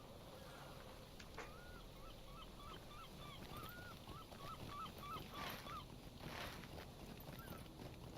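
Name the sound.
birds in a harbor in Lord of the Rings Online video game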